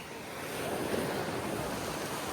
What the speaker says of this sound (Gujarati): કેવું પાણીનો અવાજ આવે છે જુઓ